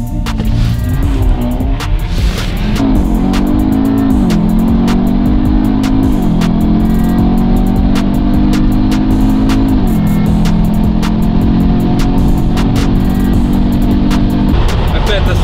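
A Tesla Model 3 Performance accelerating hard in a race against an Audi, with a rising electric whine stepping up in pitch over a loud, constant road and wind roar heard from inside the car.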